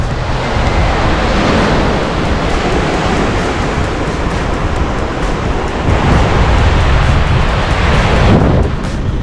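Waves breaking against the Manzanilla seawall in Trinidad near a river mouth, with strong wind buffeting the microphone; a loud, steady roar of surf and wind noise throughout, no voices.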